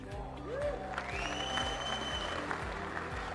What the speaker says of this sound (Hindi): ताली बजाने के लिए मैं भी वक्त दूंगा